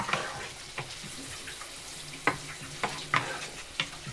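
Onions salted and softening in a pan give a faint, steady frying hiss, broken by a few soft clicks and scrapes of a utensil, no voices.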